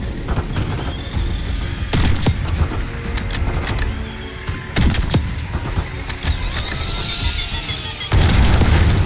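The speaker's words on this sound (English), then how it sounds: "APC incoming." Armored personnel carrier approaching in a Call of Duty: Black Ops 6 battle, a rumbling vehicle engine under repeated heavy booms and gunfire bursts, loud and close, with brief voices in the mix.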